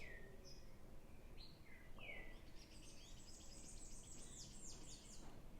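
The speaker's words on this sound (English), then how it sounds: "And the birds are really going guns." Birds singing at dawn in Trinidad, faint chirps and whistled phrases scattered over a steady low rumble of traffic, denser twittering toward the end, no talk.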